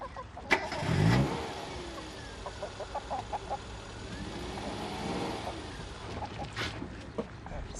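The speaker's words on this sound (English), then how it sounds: "Start the engine." A car engine cranks and catches with a short low rumble, then idles steadily under a faint, rough ambience, with a couple of brief thumps along the way.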